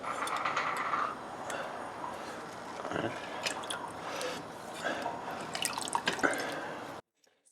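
Fresh lime juice dripping and splashing into about half a cup of warm water while making a Balinese pork satay marinade, a run of small wet drips and squishes, close and moderately loud, with brief faint speech-like sounds.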